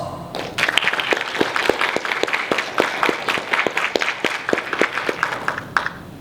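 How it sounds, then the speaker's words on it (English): Audience applause honours family members at a US Army sergeant first class's retirement ceremony, many hands clapping in a lively, fairly even patter that builds quickly, holds, and fades near the end. "Please take a moment to give these Patriot family members a round of applause."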